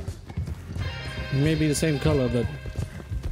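Horse in Red Dead Redemption 2, hooves clopping under a man's speech, with a brief whinny-like harmonic cry in the middle, fairly near but partly masked by the talking.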